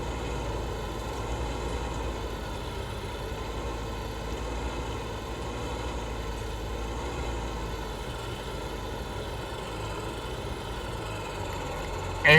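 A tractor engine in the video game Farming Simulator 19 drones at a constant, steady pitch with a deep rumble throughout, unchanging and with no speech.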